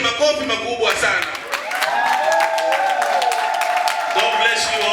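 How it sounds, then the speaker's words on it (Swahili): Graduation ceremony crowd breaks into sustained applause and some cheering, a broad wash of clapping that swells after a spoken line and continues loudly to the end. "I want you to give a big round of applause to Na them."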